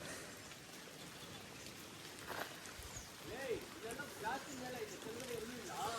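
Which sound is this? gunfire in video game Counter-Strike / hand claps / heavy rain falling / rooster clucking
heavy rain falling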